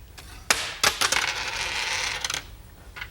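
Two objects dropped during a classroom physics demonstration strike a desk in quick succession, two sharp close impacts followed by a brief metallic rattle and settling clatter, with a faint later tap and no talking.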